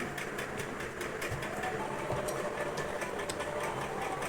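An electric sewing machine runs steadily, its needle chattering in a fast, continuous mechanical rhythm while stitching a sweetheart neck design, with faint background noise throughout.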